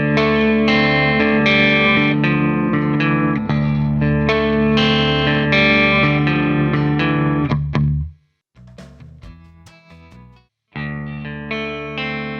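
A Harley Benton Amarok-6 electric guitar with battery-powered active pickups plays heavily distorted, effects-laden chords and riffs, then stops briefly before resuming with a few more struck chords.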